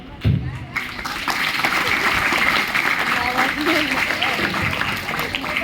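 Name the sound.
applause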